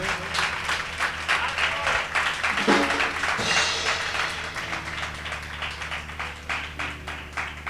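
A church congregation breaks into loud applause, with crisp, densely packed claps running throughout and a brief surge of cheering or voices partway through before the clapping settles into a steady patter.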